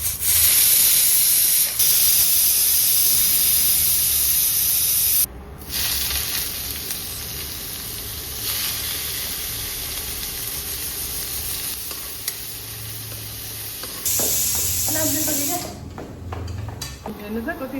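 Onions fry in a pan for a first-time meat dish, making a loud, continuous close sizzle and hiss with stirring scrapes. A person talks over the cooking.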